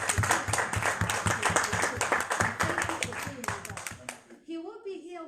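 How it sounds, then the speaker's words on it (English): An audience at a community event honouring youth coaches gives a round of applause, loud individual claps close by in a brisk rhythm with voices mixed in, fading out near the end as a voice takes over. "Another round of applause for the"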